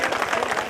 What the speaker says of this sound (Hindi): उनके सम्मान में एक बार जोरदार तालियां